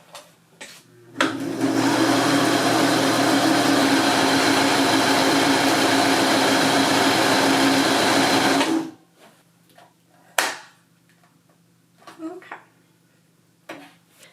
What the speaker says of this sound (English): Hold on to it when you do press your pedal down, and then your bobbin will automatically stop winding when it is full.